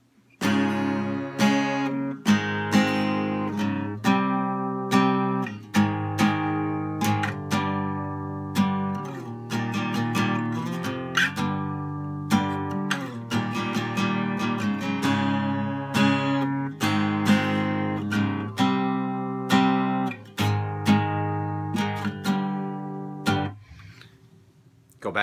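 Guitar plays a chord riff, strummed chords changing in a repeating pattern, clear and close throughout before stopping near the end.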